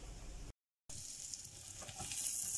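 A beef filet mignon sears in a hot pan, giving a continuous close, bright sizzle with crackles that briefly cuts out, then returns and grows slightly louder.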